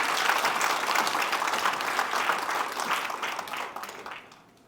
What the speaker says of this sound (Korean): 발제 토론을 맡아주신 모든 분들께 큰 박수를 부탁드립니다.